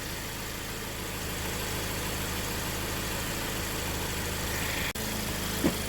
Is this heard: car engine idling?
yes